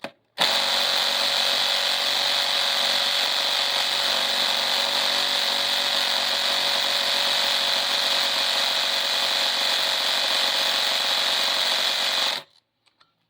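A cordless impact wrench works at undoing a nut in one continuous loud, buzzing run of about twelve seconds, starting and stopping abruptly with no voices.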